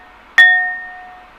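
A glass is struck once and gives a single clear, close ding whose bright ring fades slowly.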